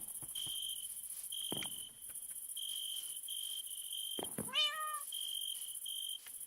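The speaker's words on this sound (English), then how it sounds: "I accidentally hit my cat again" A single short meow from a cat rises briefly above a constant high-pitched insect-like chirping drone and steady background hiss.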